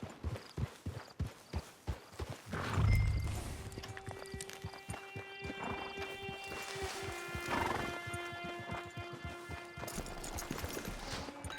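Horse hooves clop in a steady rhythm, then a loud whinny rings out, followed by ambient outdoor sounds in the Red Dead Online video game.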